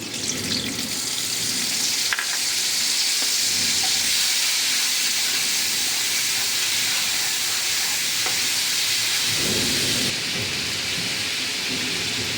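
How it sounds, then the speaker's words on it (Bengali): A cumin powder slurry hits a hot pan in a loud, continuous sizzle. The broad hiss holds steady for several seconds and then eases slightly near the end. "এর মধ্যে আমি জিরে গুঁড়ো গুলে দিয়ে দিচ্ছি।"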